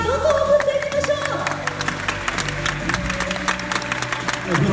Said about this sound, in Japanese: 選手に拍手、声援をどんどん送っていきましょ